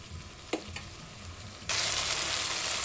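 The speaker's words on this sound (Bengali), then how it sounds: "এটা দিলাম কাশ্মীরি লঙ্কার গুঁড়ো একটু কালার হওয়ার জন্য দিয়ে মশলাটাকে কিন্তু ভালো করে কষিয়ে নেবো" Kashmiri chili powder spice masala sautéing for a bottle gourd curry: a couple of soft scrapes of stirring, then a loud, steady broadband sizzle bursts in and holds close up, with no talk.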